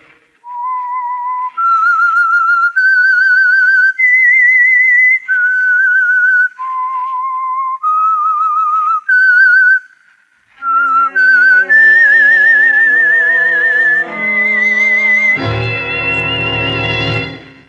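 A clear, loud whistled melody of sustained notes climbs and falls, then a brighter chord-like flourish swells at the end; the signal tune of the 1947 old-time radio mystery program The Whistler.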